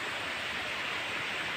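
Water rushes steadily at Phulijharan waterfall in Kalahandi, Odisha during the rainy season, a constant broadband roar heard close with no voices.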